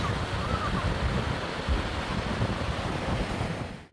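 Water flowing under a small bridge in the Cherry-picking country of Cabezuela del Valle, Cáceres, Spain, a steady broad rushing wash that stays loud and continuous throughout, with some wind buffeting the microphone.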